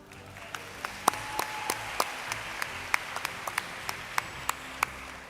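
Scattered applause at the Miami Herald/el Nuevo Herald Silver Knight Awards ceremony, a sparse run of individual sharp hand claps at irregular intervals over a hushed, reverberant room.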